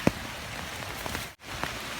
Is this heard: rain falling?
yes